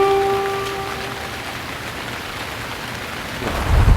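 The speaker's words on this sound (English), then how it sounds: "this is the storm of the century, and as it continues to ramp up in power, it will leave a path of destruction in its wake" A heavy thunderstorm roars with dense, steady rain and a low rumble of thunder, building into a louder crack near the end, with no voices.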